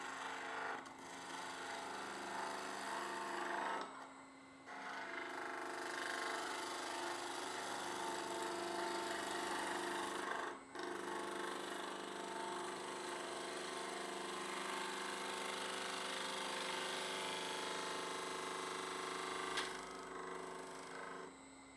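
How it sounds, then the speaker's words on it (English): Aspen wood turning on a lathe under a skew chisel, giving a steady hissing, scraping cut over the machine's constant hum, with brief pauses as the tool lifts off, close and continuous. "See if we can get some better results with the skew chisel here."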